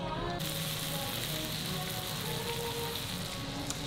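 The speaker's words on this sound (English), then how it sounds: "So here we have the sizzling seafood platter" Sizzling seafood platter of king prawns and cod hissing loudly on a hot plate, a steady close crackling fry that holds throughout without voices.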